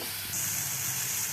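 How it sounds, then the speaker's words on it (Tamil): Tomatoes sauté in oil in a pan for an eggplant curry, giving a steady, close sizzling hiss that brightens slightly partway through. "தக்காளி நல்லா கொஞ்சம் எண்ணெய் ஊற்றி தக்காளியை வதக்கிக்கோங்க"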